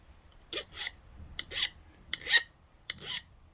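A metal file rasps across the ends of work-hardened copper wire to round them, in about four separate pairs of short, close scraping strokes with quiet gaps between.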